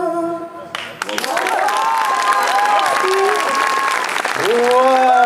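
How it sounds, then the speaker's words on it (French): Audience applause with cheering at a singing contest final, following a performance of a song: dense, sustained clapping that swells loudly near the start and carries on, with a host talking over it. "viens te faire applaudir"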